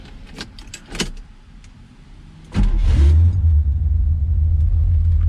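A bucket-list car with exhaust cutouts cranks and fires up midway, settling into a loud, deep, rumbling idle after a few quiet clicks and rattles close by.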